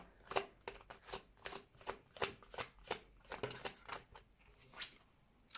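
Tarot cards being shuffled and drawn: a steady run of quick papery riffles and snaps, about two per second, soft and close with no talking.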